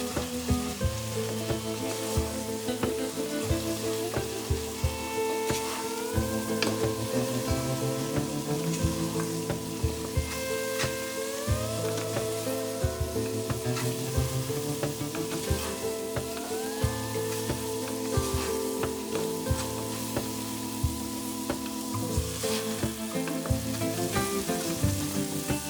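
Pesto risotto rice simmers and sizzles in broth in a pan, a steady bubbling crackle running throughout under faint scraping stirs and some background music.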